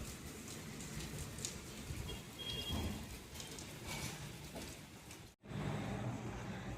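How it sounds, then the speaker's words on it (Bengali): Steady, dense rain at the start of the monsoon season pours down and patters on surfaces throughout, close and continuous, with a brief dropout just before the end. "কেমন লাগছে, বৃষ্টি পড়ছে।"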